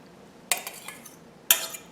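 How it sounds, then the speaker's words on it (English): Two eggs are beaten in a bowl for a cauliflower pizza crust: two sharp, close clinks of a utensil against the bowl about a second apart, each trailing off over quiet background. "beat the eggs"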